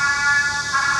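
A rental bicycle's smart lock gives an electronic greeting after a scan with Alipay, a steady tonal chime heard close and loud over street noise, with no talking.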